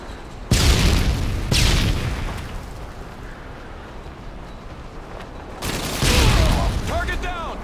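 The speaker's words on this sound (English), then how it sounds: "Tossing stun grenade!" Explosive bursts and gunfire in the video game Modern Warfare 2, with heavy booms at the start and again near the end and continuous loud battlefield rumble in between.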